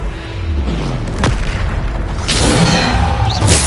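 Bombarda explosion spells cast in Hogwarts Legacy: a sharp boom near 1.3 s, then louder blasts and rumble around 2.3 s and 3.5 s over continuous game background noise.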